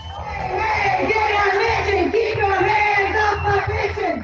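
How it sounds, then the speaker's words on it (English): A passionate crowd of state workers, educators and retirees rallies on the steps of a state capitol, a dense, steady roar of many voices with yells and shouts rising through it, loud and continuous throughout. "A passionate crowd of state workers, educators, and retirees took to the steps of the state capitol with one message: they want their pension"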